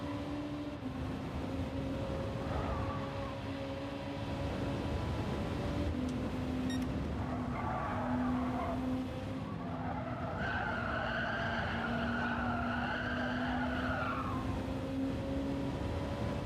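Worn tyres squeal and skid on a race car in Gran Turismo 7, a long steady engine drone underneath with wavering screeches rising at a few points; fairly quiet, no voices.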